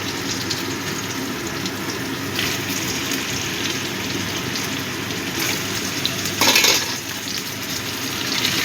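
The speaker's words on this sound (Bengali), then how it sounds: "আলুগুলো একটু ভেজে নেব।" Potatoes frying in a pan after tempered spices, a continuous close sizzle with soft crackling and a brief louder burst of spattering midway, no talking.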